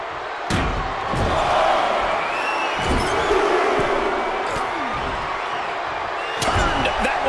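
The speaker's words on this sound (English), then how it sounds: "What a raucous crowd here tonight." Roaring arena crowd from the WWE 2K24 wrestling video game, a Roman Reigns vs Hulk Iron Man match, holds as a steady loud wash with sharp slams and thuds cutting through.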